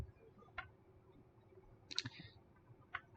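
A few isolated mouse clicks in thermal-system simulation software, sharp and close, spaced about a second or more apart against a quiet room hum.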